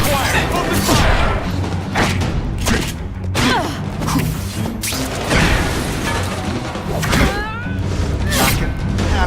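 Rapid gunfire and heavy booming explosions from the Venom video game, with crashes and thuds overlapping in a loud, dense barrage of impacts and bursts, mixed with voices.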